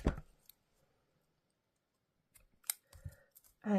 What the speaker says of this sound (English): Now cut your yarn